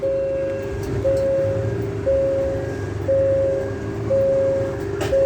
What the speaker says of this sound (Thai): ขบวน 258 ครับ มาในเวลา3โมง8นาทีนะครับ